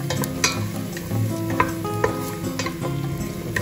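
Garlic and three dried chili peppers fry in hot oil in a pan while being stirred, giving a steady close sizzle with scattered scrapes and light clicks of the utensil.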